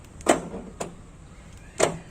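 Three separate mechanical clunks with a slight creaking rasp from the trunk lock of a 2019 Renault Duster locking, close by, spaced apart over a couple of seconds in a quiet setting.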